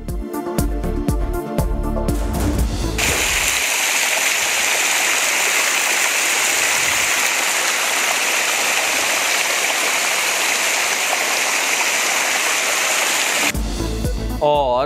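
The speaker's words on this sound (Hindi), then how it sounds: "बहते शफाफ झरने" Clear water from waterfalls in Soon Valley, Khushab, pours in a steady, loud broadband rush that fills most of the clip, with brief stretches of other audio at the start and end.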